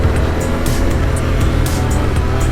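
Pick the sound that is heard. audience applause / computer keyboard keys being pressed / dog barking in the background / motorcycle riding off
motorcycle riding off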